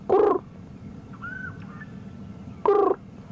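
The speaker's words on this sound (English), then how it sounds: "I can hear some scops owls, a small owl calling behind us" Scops owls, small owls, call outdoors at a safari lodge around sunset. Two short, hollow, tonal calls about two and a half seconds apart carry over quiet ambience, with a faint high whistle between them.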